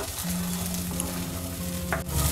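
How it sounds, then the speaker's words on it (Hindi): Green peas roasting over a low flame and stirred in a pan for matar nimona, giving a dense continuous close sizzle with a low steady hum underneath and a quick scrape near the end. "मटर को हम अच्छे से मिक्स करेंगे।"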